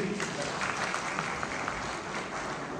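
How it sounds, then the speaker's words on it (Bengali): Audience at a community programme in Birmingham clapping together, a steady crackling wash of many hands heard from within the room, sustained throughout. "তার জন্য একটা হাততালি প্লিজ।"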